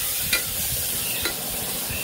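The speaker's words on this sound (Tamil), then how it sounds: "இஞ்சி பூண்டு பச்சை வாசனை போகிற வரை நல்லா வதங்கணும்." Ginger garlic paste sautés in a pan for a mutton curry, a close, steady frying sizzle broken by a couple of brief scraping stirs, with no voices.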